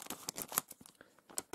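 A non-resealable plastic bag on a Lego Ninjago magazine is torn open by hand, producing a run of close, crisp crinkling and ripping bursts in an irregular rhythm, with no speech.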